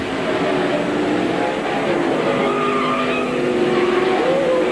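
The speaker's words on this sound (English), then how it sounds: "The car sliding up across the track." A NASCAR stock car slides up across the track and skids in a multi-flip race crash, with a steady loud roar of racing engines and a squealing tire tone running throughout.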